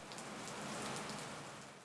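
Steady rain falls, a dense continuous hiss of drops hitting surfaces outdoors with no pauses or other sounds.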